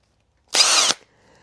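A power drill bites into a wiper knob shaft held in a vise, one short loud whining burst lasting under half a second, then cutting off to near silence.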